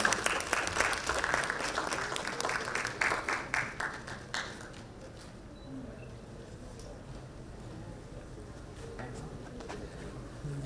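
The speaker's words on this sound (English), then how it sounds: "May I please request the audience to give a big round of applause." Audience applause at a summit on ESG, a dense burst of clapping for the first few seconds that thins out, then fades into quieter room ambience.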